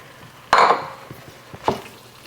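Peas and marinara being stirred in a pan, with two separate clinking scrapes of a utensil against the metal and a faint, quiet background in between.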